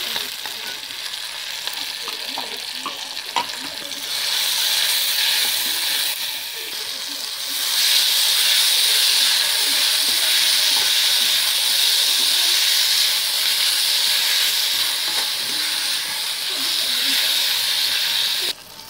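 Shredded cabbage sautéing in a pan for a semiya and rava upma, a steady frying sizzle and hiss that grows louder partway through, heard alone and close without talk.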